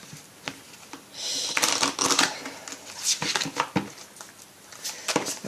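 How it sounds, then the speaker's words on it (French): A deck of oracle cards shuffled for a tarot reading, with a close riffling and flicking of cards in irregular bursts, some louder sweeps in the middle, and no voices. "Je vais prendre une carte de l'oracle de l'intuition et de l'action."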